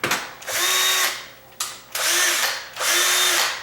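A power drill runs in three bursts of a couple of seconds each with short pauses between, close and loud, while drilling into a door hinge on a tall sagging door.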